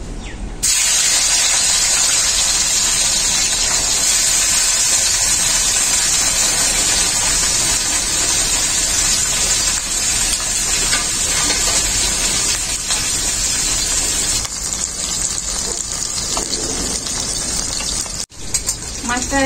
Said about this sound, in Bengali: তেলটা খুব ভালোভাবে গরম হয়ে গেছে। মাছগুলো আমি ভেজে নেব।